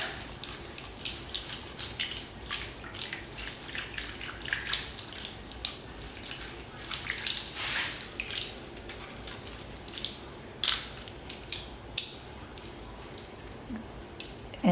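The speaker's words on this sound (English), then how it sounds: "swirling the brushes in the soapy water." Dirty makeup brushes swirled through soapy water, giving soft wet squishing and dripping with scattered sharper splashes, close and fairly quiet, with no talking.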